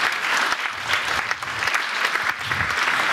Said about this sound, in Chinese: 让我们以热烈的掌声欢迎廖东洲大使及夫人朱迪师姐